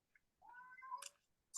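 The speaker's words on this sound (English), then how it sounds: "in my garden, some cat is having some courtship" A cat in a garden gives a single drawn-out, rising courtship meow, faint and somewhat distant, ending with a sharp click.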